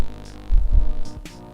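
An Aurora 100 FPV drone in flight, its small motors giving a steady throbbing hum that swells and dips briefly as the throttle changes, loud and close.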